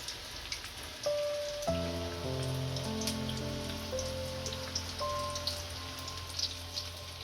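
Maggi bhajiya fritters frying in hot oil, a steady bubbling sizzle running throughout with a faint tonal hum underneath and no talking.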